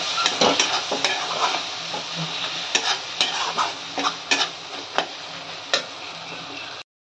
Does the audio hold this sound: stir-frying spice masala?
yes